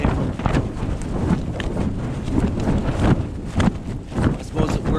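Strong wind at a campsite in a gully, gusting roughly against the microphone and tent fabric, with rumbling buffeting that rises and falls, while a person talks over it.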